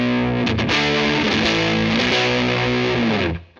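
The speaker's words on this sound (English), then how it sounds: "let's put a little bit of a distortion there, a little fuzz pedal." An electric guitar plays chords and notes through a fuzz distortion pedal and a Keyztone Wahouwah multi-wah pedal, loud and thick with a sweeping filtered tone, then cuts off at the end.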